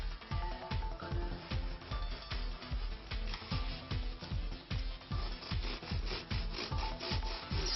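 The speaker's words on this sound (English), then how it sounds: "My bread is cooled down enough to touch so I can slice it now." A knife saws back and forth through a loaf of freshly baked, still-warm bread. The strokes are steady, rhythmic and crusty, close to the mic, with no talking.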